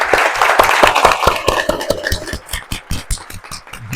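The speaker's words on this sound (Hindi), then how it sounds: "जोरदार तालियां पहले हमारे एक्टर्स के लिए।" Audience applauding actors at a monologue workshop performance, a burst of clapping that is loud and dense at first and then thins into scattered, distinct hand claps near the mic.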